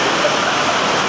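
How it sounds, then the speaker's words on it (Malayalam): Heavy monsoon rain pours down at Ratnagiri station, heard from aboard a Duronto Express train as a steady, dense, loud wash of noise with no gaps and no speech. "ഭീകര മഴയാണ് കണ്ടോ."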